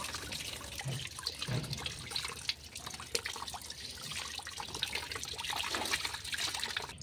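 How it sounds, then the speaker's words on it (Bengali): Running water splashes and trickles steadily over a hilsa fish being rinsed by hand, a continuous close wash with small irregular splashes throughout. "ফাইনালি আমি মাছটা ধুয়ে ফেলেছি"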